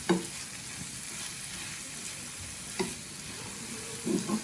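Dried vanjaram fish fries in a pan with a low, steady sizzle, broken by a few brief stirring scrapes and clinks, heard alone without talk.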